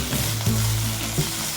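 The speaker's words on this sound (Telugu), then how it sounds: "పెద్దవిగా తరిగిన టమాటాలు వేసి 10 నిమిషాలు వేయించుకోవాలి." Tomatoes, ginger and garlic fry in a pan for a paneer curry, producing a loud, continuous sizzle with a soft stirring rhythm and low tonal hum underneath.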